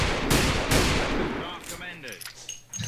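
Video game gunfire: a few loud, sharp shot bursts in the first second, then quieter scattered game sounds.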